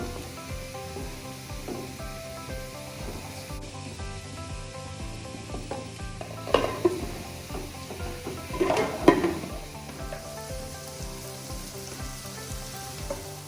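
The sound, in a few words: stirring onion masala sizzling in a pan for squid roast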